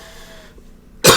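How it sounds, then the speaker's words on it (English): A single short, harsh cough bursts out loud and close at the end, after a quiet moment of low room noise. "I'm still coughing a bunch of stuff up from not smoking."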